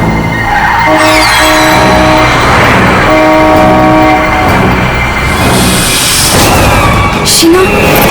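A car horn blares on the road in two long, loud sustained honks over a busy roar of traffic and engine noise, followed by a short higher toot near the end.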